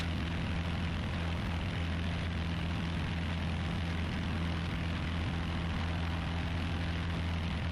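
A Piper Warrior single-engine propeller plane climbing out after departure from Hartford. Its engine and propeller make a loud, constant droning roar that fills the whole stretch with no break.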